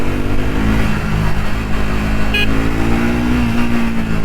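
A Triumph Speed 400 motorcycle engine runs close and loud in a steady, throbbing idle and low rev, with a brief higher note near the middle and no talk over it.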